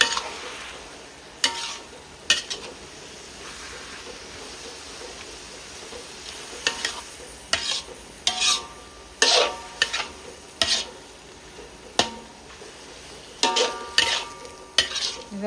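A curry being stir-fried with soy sauce in a pan: repeated sharp spatula scrapes and knocks against the pan over a steady sizzle, growing busier toward the end.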